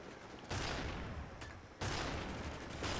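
Rocket launcher fire in a video game arrives as two loud, broadband blasts about a second apart, each trailing into a roaring rumble.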